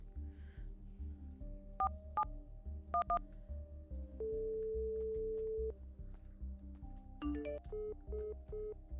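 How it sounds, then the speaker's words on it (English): Touch-tone phone dialing inside a role-play video game: a quick run of short DTMF beeps, then a long steady tone, then another cluster of rapid beeps, clear and close over a low background hum, with no talking. "I'm making a phone call myself."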